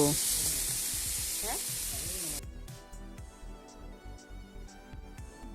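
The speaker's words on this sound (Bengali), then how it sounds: "কাঁচা লঙ্কা আদা আর ধনে গুঁড়ো সবগুলি ভালো করে একসাথে মিশিয়ে নেব" Tomato, green chilli, ginger and coriander powder sizzling in a pan, a loud hiss that cuts off sharply partway through, followed by softer rhythmic scraping and stirring strokes.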